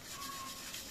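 Distress ink rubbed across paper to age it for scrapbooking, a steady soft scuffing rasp lasting under a second, faint and close with no voices.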